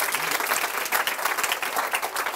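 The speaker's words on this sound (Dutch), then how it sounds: "We gaan nu even klappen, inderdaad, voor Barne Werkhoven." Audience in a hall applauding steadily, dense loud clapping throughout with no pauses.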